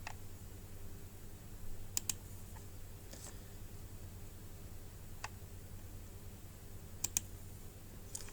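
A computer mouse clicks faintly in a quiet room, with a pair of clicks early on, a couple of isolated ones, and another quick pair near the end over a soft background hum.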